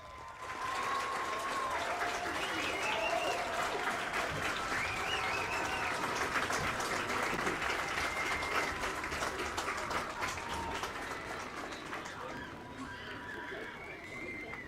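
A crowd at a high school graduation ceremony claps for the graduating students in sustained, steady applause that holds for most of the stretch, then thins slightly toward the end.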